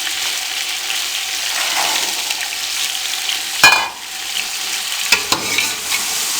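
Chicken pieces and green peas sauté in a pot with a continuous loud sizzle up close, broken by a couple of sharp clanks and scrapes of a spoon stirring against the metal.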